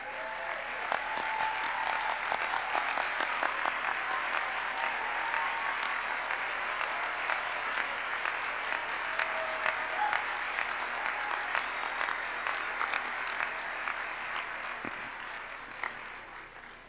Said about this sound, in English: I think you need a round of applause as well